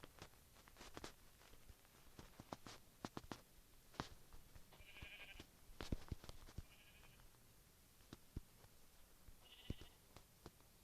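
Minecraft sheep bleating in a survival game, several short bleats spaced a few seconds apart over a quiet background of clicks and footsteps.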